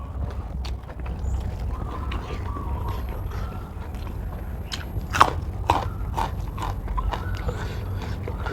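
Close, crunchy chewing and biting of a spicy Thai koi salad with bitter gourd shoots, Chinese cabbage and chilies, with repeated crisp crunches, one louder snap, and faint background noise.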